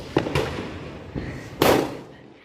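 Small firecrackers burst outdoors in three sharp, loud pops spaced over a couple of seconds, each one followed by a short fading crackle.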